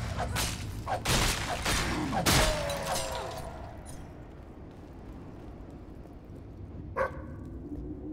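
A dog barks in Fable III, a few quick loud barks at the start over busy game sounds, then quieter ambience with one more short sharp bark near the end.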